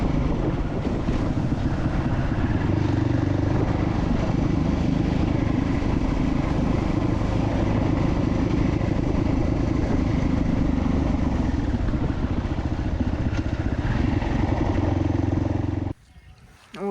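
Enduro motorcycles ride toward an abandoned village over rough terrain, giving a steady loud engine drone mixed with heavy wind buffeting on the microphone for most of the ride, then dropping off abruptly near the end.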